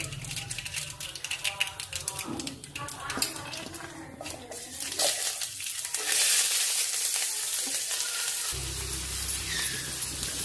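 Cumin, mustard seeds, onions, chillies and grated ginger sizzle and crackle in hot oil with occasional stirring clatter, a steady frying hiss that swells louder partway through.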